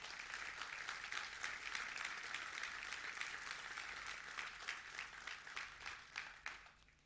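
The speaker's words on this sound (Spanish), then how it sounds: "Dele un fuerte aplauso a Dios en esta mañana" A church congregation claps together at a Sunday morning service, steady dense applause from many hands filling the room throughout.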